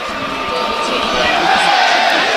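Crowd at a Woking v Boston United National League football match, a continuous murmuring roar of reaction, moderately loud and building slightly, with no clear individual voices.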